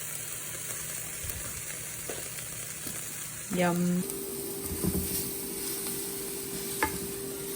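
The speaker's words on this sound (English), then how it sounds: "when you preheat it, you kind of get that nice sizzle starting early" Food sizzles in a preheated pan with no oil, a steady quiet frying hiss throughout, with a short tonal beep midway and a few clicks; a voice speaks briefly.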